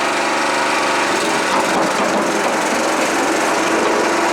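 A Silverlake 450 hydraulic post pounder's small engine, restarted after sitting six years, revs loudly and steadily up close, a continuous rough mechanical drone with no pauses.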